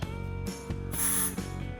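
Smoke spray tester releasing a short hissing burst to trigger a smoke detector, heard close up with a mechanical click before and after the spray.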